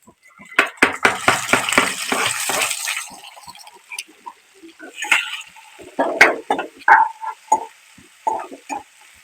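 Onion and tomato tossed into hot oil with curry leaves, ginger, chili and garlic for a dry tiger prawn masala, giving a burst of rapid clatter and sizzle, then quieter spells broken by spoon scrapes and clinks against the pan.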